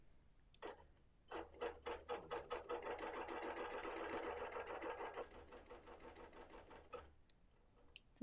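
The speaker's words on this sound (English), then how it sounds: "I've just got a 1/4 inch basting stitch on" A sewing machine runs a 1/4 inch basting stitch through a zigzag quilt during free-motion quilting, a steady rapid mechanical chatter lasting several seconds, close and fairly loud, with brief clicks before and after.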